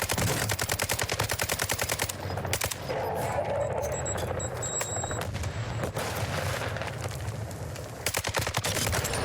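Automatic weapon fire in Warzone 2: rapid rattling bursts at the start and end, with scattered single shots and game noise in between.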